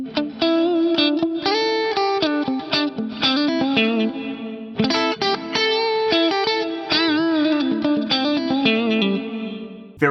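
Electric guitar played through a delay with place effects fully wet at 100% mix, phrases smeared into long, washy, reverb-like repeats with chorus shimmer and slight grit; loud and continuous, with no talking.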